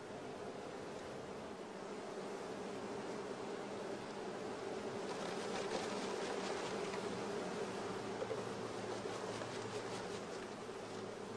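A shook swarm of honey bees buzzes as a soft, continuous drone, faint and steady throughout, with the hum thickening slightly midway and no talking.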